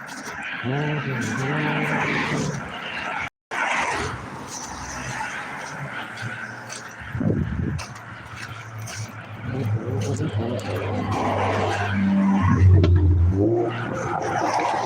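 Car swerving past and braking hard on a road at night, a loud engine and tire noise sweeping by with a rising whine and rumble, heard under someone talking throughout.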